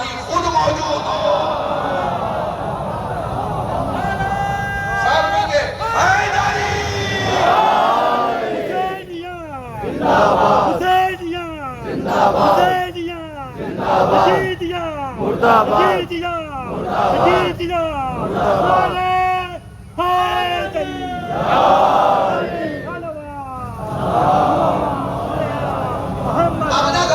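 At a religious majlis, a crowd chants slogans in loud, rhythmic unison, with repeated shouted phrases rising and falling about once a second over a dense, echoing hall ambience.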